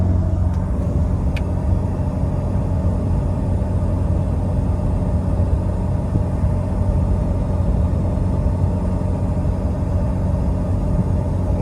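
A 2020 Ford F-150 with the 2.7 EcoBoost and an AWE exhaust cruises on the highway, giving a steady low drone and road rumble heard from inside the cab for about twelve seconds, with no talking.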